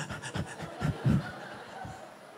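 A voice imitates heavy panting breath, with about five or six loud rhythmic gasps in quick succession, close and alone, with no other sound.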